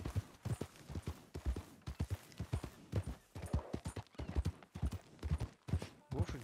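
Rhythmic clip-clop of a horse's hooves in Red Dead Redemption 2, a steady train of close, crisp hoofbeats with no talk.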